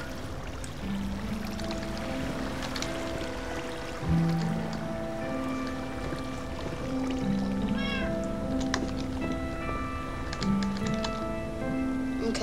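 A cat in Minecraft (Tekkit) meows repeatedly in short, clear calls, with keyboard typing and game sounds running underneath throughout.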